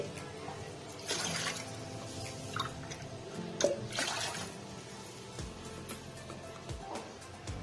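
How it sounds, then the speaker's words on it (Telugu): Water poured from glasses into a pot while cooking pongal in a home kitchen, heard as a few soft splashing pours with quiet gaps between them, close but fairly faint. "ఇప్పుడు నేను 4 గ్లాసెస్ వాటర్ ని దీంట్లోకి యాడ్ చేసేస్తాను."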